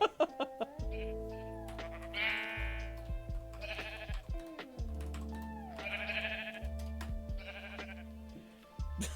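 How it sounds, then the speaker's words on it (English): Sheep summoned in a video game bleat over and over, a dense chorus of overlapping calls in several bursts, close and fairly loud, with steady tonal game music underneath. "It is gonna summon a billion sheep."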